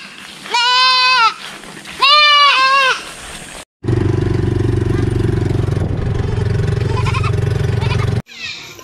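Goats on a farm give two loud, drawn-out wavering bleats close by, then a steady engine-like rumble takes over for several seconds before cutting off abruptly.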